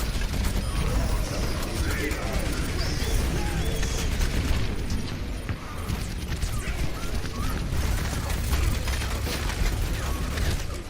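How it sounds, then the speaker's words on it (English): Bastion's ultimate going off in Overwatch, dense loud bursts of mechanical clanking and repeated explosions filling the whole stretch, with a second Bastion ultimate adding to the barrage. "Oh, the other Bastion ultimated."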